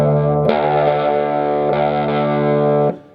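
A 1973 Gibson Les Paul Custom on its bridge pickup with overdrive, played as loud, thick distorted chords that sustain for a few seconds with a fresh strum partway through before being cut off, with no talking.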